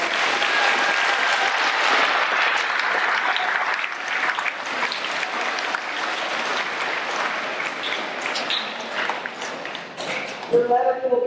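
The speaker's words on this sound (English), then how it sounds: "So let's give all those students a round of applause." Audience at a school Veterans Day ceremony applauding students, a long steady wash of many hands clapping at close range that carries for over ten seconds before thinning and breaking into a few scattered claps and voices at the end.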